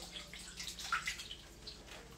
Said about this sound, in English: Just kind of like dunk it in and out and swish it around with my fingers.